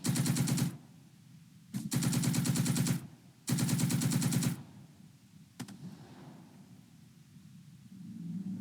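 Video game machine gun fire comes in three loud rapid bursts, each about a second long with short gaps between them, followed by a quieter stretch of low rumble.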